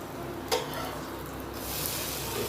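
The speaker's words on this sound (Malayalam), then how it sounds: "ഇഞ്ചി ഇത്രയും നമുക്ക് ഇട്ട് നല്ലതായിട്ട് ഇളക്കി" Shallots, garlic, green chilli and ginger sizzle steadily in a pan for a Kerala fish curry, with a spoon clink and stirring scrapes over the constant frying hiss.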